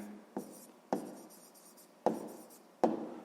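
A pen or pencil writes an answer by hand during a sixth-grade maths exercise, four quiet taps and strokes on paper spaced through a soft, close scratching.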